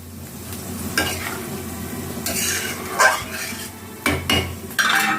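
Tilapia tail pieces fry in a pan beside papaya being sautéed, with stirring scrapes, clinks of a utensil against the pot and a steady low sizzle, no talking.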